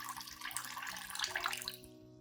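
Clean water pours into a container to dilute a nutrient solution for orchids, a short splashy trickle that quiets as the flow stops.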